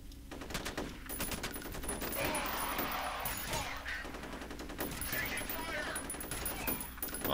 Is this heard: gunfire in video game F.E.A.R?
yes